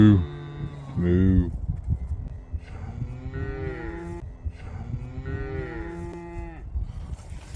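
Cattle moo repeatedly near an electric fence in the countryside, with one loud close low at the start and several long, drawn-out moos following at a moderate distance.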